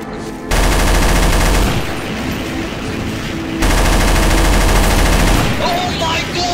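Sustained automatic gunfire from Garry's Mod weapons rattles loudly in long continuous bursts, broken briefly by a short pause.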